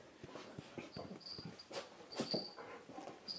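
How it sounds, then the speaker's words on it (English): Dogs whimpering and whining in a home, with short high whines and snuffling breaths scattered through a few seconds, fairly close but quiet. "The dogs are really, really annoying."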